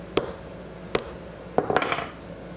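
Sharp metallic taps of a center punch struck on a Wilton vise to raise dimples: three separate ringing hits, then a quick cluster of lighter strikes, close and fairly quiet with no talk.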